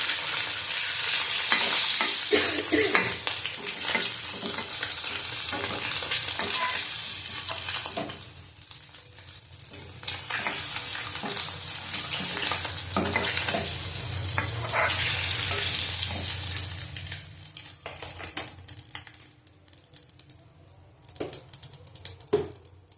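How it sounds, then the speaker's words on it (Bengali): Katla fish pieces fry in hot oil with a loud, dense sizzle that eases off midway and then returns with scattered pops and stirring clatter toward the end. No one speaks. "মাছটাকে তুলে নেবো, ভাজা হয়ে গেছে।"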